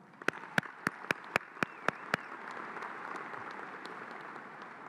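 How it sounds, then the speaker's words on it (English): At a high school graduation, eight evenly spaced sharp claps ring out close by, then scattered applause from the class continues more softly and diffusely in the background. "Let's give ourselves another round of applause."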